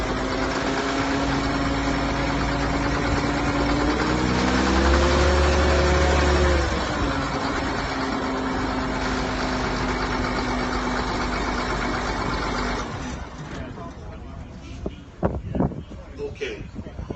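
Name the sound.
John Deere 7810 tractor engine idling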